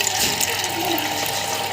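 Water poured from a mug at home, a steady, fairly loud splashing rush that runs without a break, with no talking over it.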